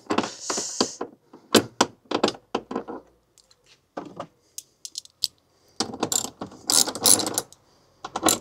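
Bolts on the frunk cover of a Kia EV3 being undone by hand tool, a run of short ratcheting clicks and metallic bursts close by, with pauses between turns.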